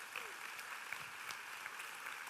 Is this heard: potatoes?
no